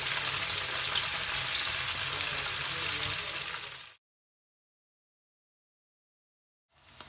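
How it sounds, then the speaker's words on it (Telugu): Paneer pieces shallow frying in a little oil make a steady, dense sizzle that runs alone for about four seconds, then cuts to silence before a faint return at the very end. "ఇలా గోల్డెన్ బ్రౌన్ కలర్ వచ్చే వరకు ఫ్రై చేసుకొని బౌల్లోకి తీసేసుకుందాం."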